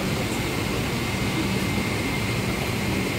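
Steady, loud broadband roar of an airliner and airport ambience while boarding a flight at Kolkata airport, continuous and unbroken with no talking.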